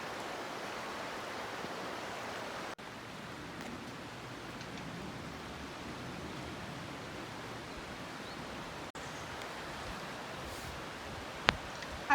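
Sol Duc river flowing past a campsite, a steady broadband rush of water spraying and churning nearby, continuous and even throughout with no voices.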